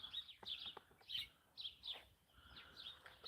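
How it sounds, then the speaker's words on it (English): Small birds chirp and tweet in short bursts at a distance, with a brief spoken word near the start. "I can hear all the birdies."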